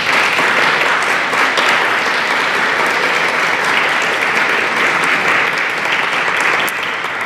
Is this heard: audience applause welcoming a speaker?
yes